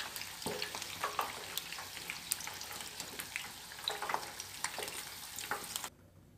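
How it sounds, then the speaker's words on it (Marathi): Paneer fries in hot oil, giving a soft, steady close sizzle with scattered crackles and small stirring clinks, which stops abruptly near the end. "याच पद्धतीने राहिलेले पण पनीर मी तळून घेणार आहे."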